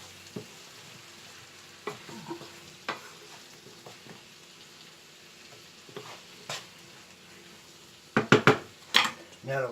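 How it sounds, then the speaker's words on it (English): A spatula scrapes and stirs a lamb sausage mixture in a frying pan, giving soft intermittent scuffs over a faint sizzle, then a burst of louder metallic clatters near the end. "Now I start to mix it all in."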